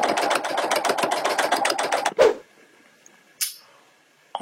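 A domestic sewing machine stitches around the edge of a stuffed fabric burger bun in a steady, fast run of needle strokes, then stops abruptly, leaving near-quiet with a couple of brief clicks.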